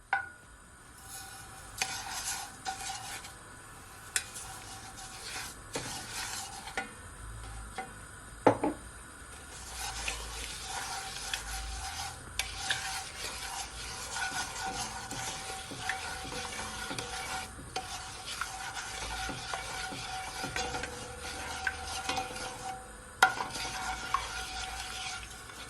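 Sugar being stirred into half-melted butter in a pot for a Jamaican spice bun, a soft continuous sizzle with frequent spoon scrapes and light clinks against the pot, quiet and close, no talking.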